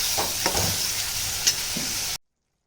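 Ridge gourd cooking in a pan with turmeric and salt makes a steady broadband sizzle, with a few soft stirring scrapes, before the sound cuts off abruptly near the end.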